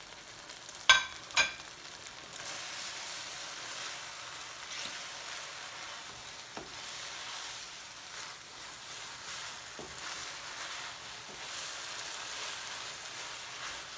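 Noodles for Ants Climbing a Tree hit a hot pot in a home kitchen and sizzle steadily, a soft even frying hiss broken early by a couple of sharp clatters and occasional faint clicks.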